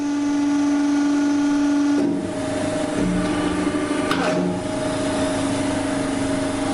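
A small injection moulding machine fills its clamped mould cavity with plastic granules. It gives a steady loud mechanical hum with a whining tone that shifts after two seconds, and a brief clank follows.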